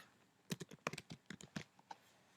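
Someone types a search on a computer keyboard: a short, close burst of about a dozen clicking keystrokes in an uneven rhythm, fairly quiet.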